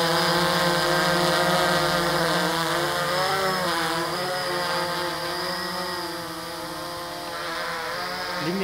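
A Blade 350 QX3 quadcopter drone flies with a steady, close, loud motor whine whose pitch wavers and dips as it moves away, with no talking.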